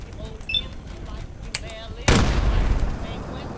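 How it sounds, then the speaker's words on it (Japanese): In Fallout 4, a sudden loud explosion bursts after a stretch of quieter game sounds and small pops, followed by a rolling, crackling decay. "爆発させちゃおうか。"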